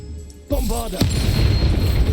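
A Bombarda explosion spell cast in Hogwarts Legacy, a heavy boom bursting out loud after a short voiced call, then a sustained rumbling roar of debris that keeps going to the end.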